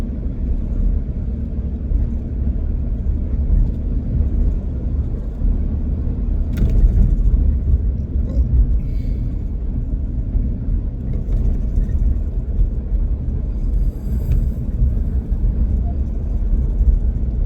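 Steady, close interior road rumble from a car driving on a long highway trip near Phoenix, a continuous low drone with a few brief knocks and no speech.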